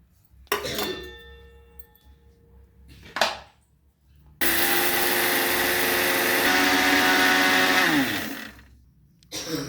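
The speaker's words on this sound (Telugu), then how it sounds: "దీన్ని మనం మిక్సీ జార్లో వేసి మిక్సీ పట్టుకుందాం" Mixie jar grinding sugar: a couple of short bursts and clinks, then a loud steady whirring grind for about four seconds that winds down before another start.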